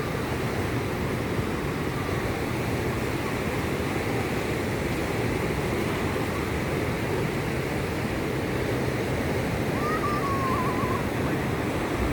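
Steady roar of surf washing onto Patar White Beach in Bolinao, continuous and broad with no pauses, a faint distant voice briefly audible near the end.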